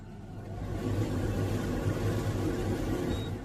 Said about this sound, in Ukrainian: Включаю вытяжку.